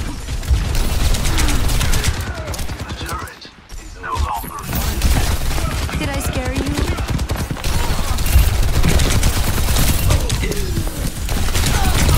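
Overwatch 2 gameplay with an enemy turret firing in rapid, continuous bursts, mixed with game effects and in-game voice lines.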